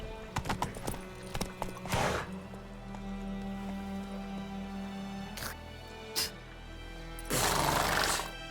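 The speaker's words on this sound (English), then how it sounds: "Whoa there, Roach." The horse Roach trots in The Witcher 3, a steady rhythmic clip-clop of hooves with a few louder snorts and neighs breaking in, close and clear over quiet game ambience.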